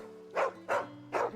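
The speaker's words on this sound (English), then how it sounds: "Why is this dog raging at us?" A dog barks in the video game Final Fantasy XVI: three evenly spaced, fairly loud barks in quick succession over a faint background hum.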